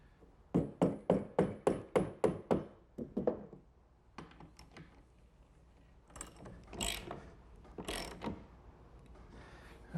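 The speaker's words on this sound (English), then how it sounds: "Now I'll just use a socket and fasten it down." A socket wrench ratchets in a quick series of about a dozen close clicking strokes while fastening a bolt on a wooden picnic table build, followed by scattered knocks and handling sounds.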